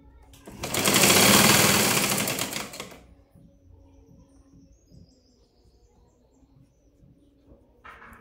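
A sewing machine stitches a blouse in one loud, dense burst lasting about two and a half seconds, then stops, leaving quiet handling sounds.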